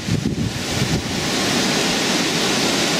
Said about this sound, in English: Really windy. One of those gusts.